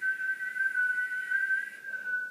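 A person whistles one steady, clear sustained tone that holds for about two seconds, then dips briefly and resumes, close and alone with no talking.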